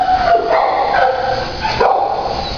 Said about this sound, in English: he's not the biggest dog here in the shelter